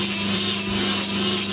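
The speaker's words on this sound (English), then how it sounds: "it is much easier with the grinder" A power grinder trims a cow's hoof, giving a steady, loud, continuous whir with a constant hum and no pauses.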